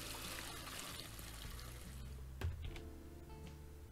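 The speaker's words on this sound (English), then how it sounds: "Surely it'd be better to attach the hose to the sink and then just use the hose to fill the tank." Fresh water from a hose pouring into a new fish tank, a soft continuous trickle and splash, faint and steady, with a small clunk partway through.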